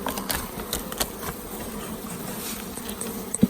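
Honeybees buzz around small mini hives as they bring in cherry pollen, a close steady hum with individual bees droning past, and no voices.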